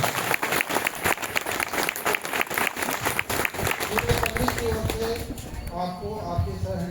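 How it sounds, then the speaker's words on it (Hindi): A church congregation at a Father's Day service in a Minor Basilica in Ranchi applauds in a dense, sustained patter that fades over several seconds, with a voice speaking over it. "ताली बजाइए अपना।"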